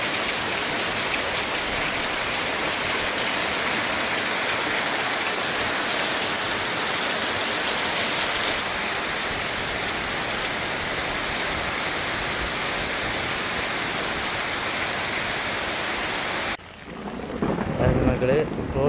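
Heavy rain pours down steadily at a farm in a downpour, a dense continuous roar hitting surfaces close by, with thunder rumbling, before the roar cuts out near the end into quieter rustling.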